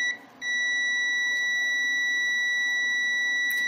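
Continuity tester sounding a steady high electronic tone with its probe touching a metal tape measure body, a short break near the start then one continuous loud beep, close up with no talking.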